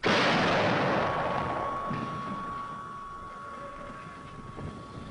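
An artillery battery firing at Fort Sill, Oklahoma, in the 1950s: one loud, broad blast at the start that rolls into a long, slowly fading rumble and echo across open ground.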